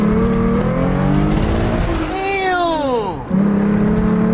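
A V6 Ford Mustang engine revs hard and climbs in pitch as it accelerates in first gear, then briefly drops and picks up again, loud and close throughout.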